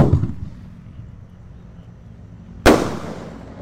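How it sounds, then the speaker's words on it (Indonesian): Bima Sakti jumbo firework set off outdoors in an open area away from houses; a low rumbling hiss fades out, then one loud, sharp bang lands near the end and trails off into a crackling decay. "Bima Sakti jumbo ini sudah menyala, siap meluncur."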